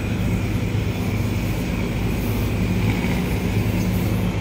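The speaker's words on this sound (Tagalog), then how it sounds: "Papalipad tayo ng drone dito, mga kababayan, para makita rin natin yung view sa taas." Steady, loud drone motor whine during takeoff and flight at the Pasig River Esplanade, a continuous hum with a constant pitch and no pauses and no talk.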